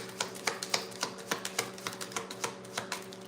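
Tarot cards being shuffled by hand make a quick, irregular run of soft slaps and riffles, close up and fairly quiet, over a faint steady hum.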